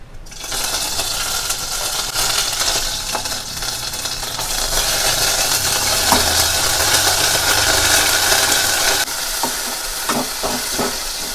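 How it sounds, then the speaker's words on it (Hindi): Ground spices sizzling in hot oil tempered with jakhiya seeds and chilli in a pahadi home kitchen, a loud, steady fry with occasional stirring scrapes and clinks, no talking. "तो अब इसमें जो पिसे हुए मसाले हैं इसको डाल देंगे"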